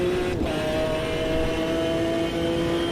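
A race car engine in the video game Automobilista 2 holds a high, steady whine, pitching up as it revs hard, loud and continuous from start to finish.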